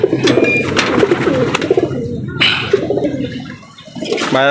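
Pigeons in a large loft, soft cooing and fluttering close by, with someone talking over them and a splash of water-like noise near the end.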